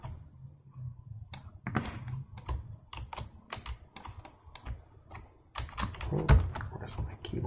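Rapid, uneven bursts of keystrokes on a computer keyboard, close and fairly loud, with a few heavier key thumps mixed in; short pauses separate the typing runs.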